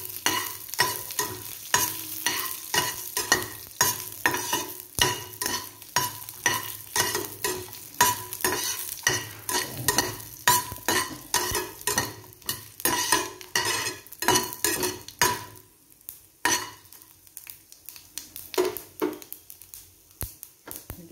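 Four dried red chillies frying in a pan, with a steady busy sizzle and rapid rhythmic spoon scraping and clinking against the metal. The stirring thins out near the end, leaving quieter crackle and a few isolated taps.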